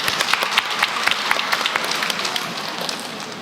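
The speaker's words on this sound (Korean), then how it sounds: "박수 할까요? 박수." Church congregation at a mothers' prayer service breaking into applause, a dense burst of clapping from many people that slowly thins and softens toward the end.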